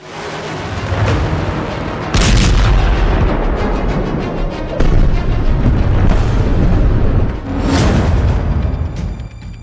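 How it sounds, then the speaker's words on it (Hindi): Heavy, repeated booming blasts from a US submarine attack on the Iranian warship IRIS Dena rumble continuously, with several sharp louder impacts standing out over a dense roar. "ईरानी युद्धपोत IRIS देना पर अमेरिकी पनडुब्बी ने विनाशक हमला किया है।"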